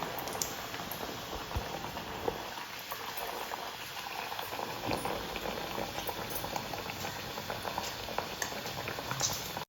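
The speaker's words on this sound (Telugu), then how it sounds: "ఇప్పుడు మనం ఇప్పుడు వేడి వేడి నూనెలో వేసేయాలి" Ragi dough fritters (burelu) deep frying in hot oil, a dense, continuous bubbling sizzle heard up close and loud throughout, with small crackles scattered over the steady roar.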